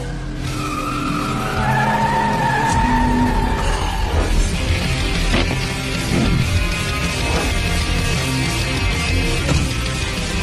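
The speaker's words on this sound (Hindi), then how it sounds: "क्या? कार की आवाज?" Racing cars arrive with loud tire skids and screeching, engines roaring close by, sliding pitch sweeps over a dense continuous roar with a brief crash-like burst.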